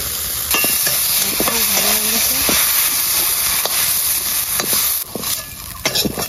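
Boiled young jackfruit fries and is stirred in a hot pan, giving a loud, steady sizzling hiss with occasional scraping clinks of the spoon, no voices.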